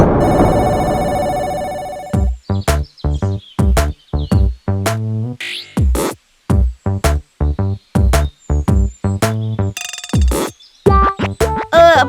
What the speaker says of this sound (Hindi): अरे फोन तो उठाओ।